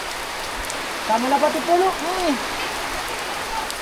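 Steady rain falls outdoors, a continuous even hiss of drops lasting throughout, with a brief stretch of voices talking over it midway.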